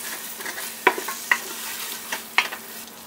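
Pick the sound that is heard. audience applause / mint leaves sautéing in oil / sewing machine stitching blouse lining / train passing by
mint leaves sautéing in oil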